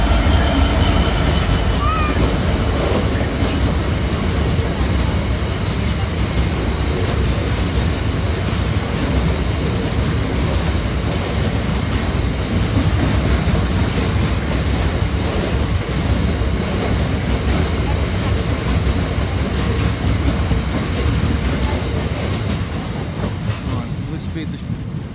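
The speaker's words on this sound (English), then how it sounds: "Sand train." A sand train hauled by Class 66 locomotive 66729 "Derby County" rolls past at Lincoln, a steady, loud rumble of wagons with rhythmic clatter over the rails, continuous and close throughout, fading slightly at the end.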